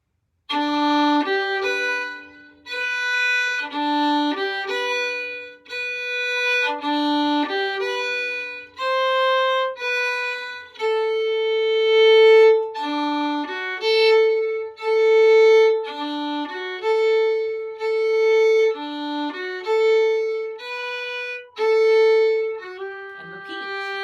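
A string instrument plays the A part of the fiddle tune Shoe The Donkey at a beginner pace, bright clear notes in a lilting bouncy rhythm, one phrase repeated, alone with no voice over it.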